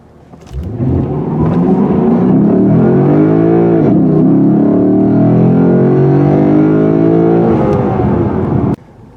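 A 2019 Lexus V8's powerful exhaust roars as the car accelerates hard on a trail, rising in pitch through gear shifts, loud and close, with no talking.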